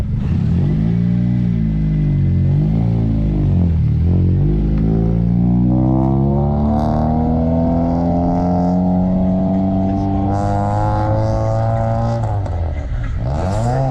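A vehicle fitted with a stage 2 clutch pulls away, its engine rising through several gears in loud, steady revving strokes that climb and hold before easing off near the end.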